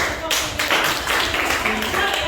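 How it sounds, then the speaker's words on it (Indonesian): Classroom applause from students after a persuasive speech presentation, a dense, continuous patter of many hands clapping close by with voices mixed in. "kita beri aplaus dulu"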